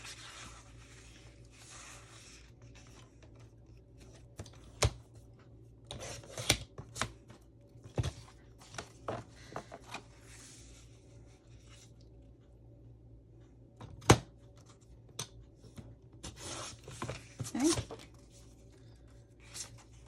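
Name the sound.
cutting a piece of Christmas paper for a journal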